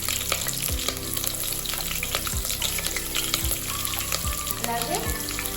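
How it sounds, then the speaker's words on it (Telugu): Green chillies frying in hot oil with cloves and cumin seeds in a pan, a steady dense sizzle with a few thumps and scrapes of stirring. "పచ్చిమిర్చి వేస్తున్నాను."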